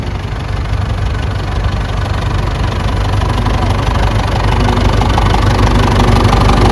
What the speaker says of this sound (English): you can see this one's got the Perkins diesel engine in